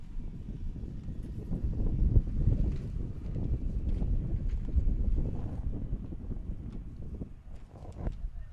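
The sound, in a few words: gust of wind at outdoor stadium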